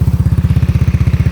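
A Yamaha Mio Sporty scooter engine with a hollowed-out modified exhaust runs right after starting, a loud, close, rapid steady putter of low exhaust pulses with no voices.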